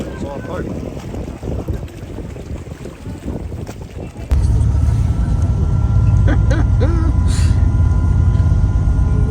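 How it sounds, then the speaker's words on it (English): Steady wind and water rush from a fast-moving hydrofoil on Lake Como, growing louder and denser midway as the craft picks up speed, with a faint voice in the mix. "I think that rather glorious hydrofoil is our boat"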